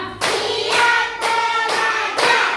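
Elementary schoolchildren at SDN Gelombang Timur 2 clap together in a classroom: five loud, evenly spaced bursts of many hands striking in unison, close and clear, with no talking.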